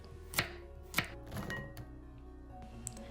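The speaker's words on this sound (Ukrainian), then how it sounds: "нарізаємо моркву і теж перекладаємо в посуд" A knife chops carrots into cubes on a board for vegetable stew, giving a few distinct close thunks spaced about half a second apart over a steady background hum.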